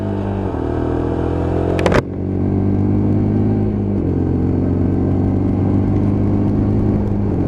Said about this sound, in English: So just getting the revs on the bike.